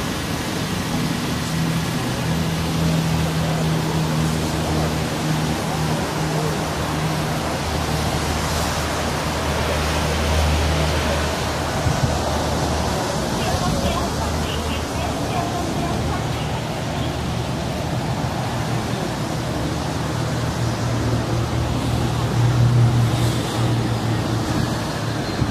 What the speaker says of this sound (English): I have a 2013 Mazda 3 to show you real quick. And it is on right now, if you can hear that.